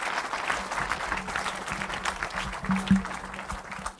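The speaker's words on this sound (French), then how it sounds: "On acclame le Seigneur, mes amis, pour l'intervention de la sœur et des frères et sœurs." A church congregation applauds in a sustained, moderately distant wave of clapping, steady and even, with faint voices underneath.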